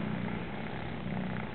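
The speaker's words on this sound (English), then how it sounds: "she's just purring, and she just wants so much love." A female cat purrs close up in a steady low rumble, alone and unbroken.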